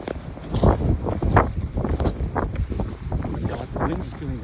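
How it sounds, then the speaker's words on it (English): Strong gusts of wind buffet the microphone outdoors while a person runs, producing uneven rumbling bursts that rise and fall throughout. "the wind is doing the real thing"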